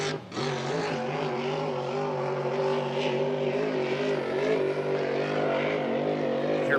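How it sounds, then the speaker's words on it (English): A hydroplane race boat engine bangs against its rev limiter at the Apollo Columbia Cup, a loud, steady, harmonic-rich roar with faint stuttering cuts as cylinders drop out, held close and continuous throughout. "That's the rev limiter of these engines kicking in"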